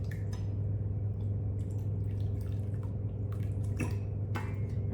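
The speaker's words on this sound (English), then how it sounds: "We're just gonna pour it into our measuring cup." Italian dressing poured into a measuring cup for a chicken pasta salad, soft trickles and drips over a steady low background hum.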